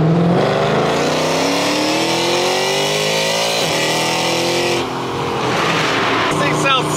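A 2021 Toyota Tundra pickup's engine drones and rises as the truck drives and accelerates through an underpass. The sound is loud and steady, close up from the cabin, with a brief dip near the end.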